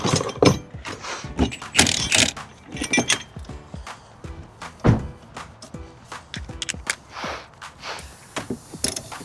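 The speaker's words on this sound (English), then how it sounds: "we can spin it off with the gun properly now" An impact gun rattles and clunks on a rusty suspension nut on a 2002-2008 Ford Fiesta, in several irregular close bursts with metallic knocks in between, loud and uneven.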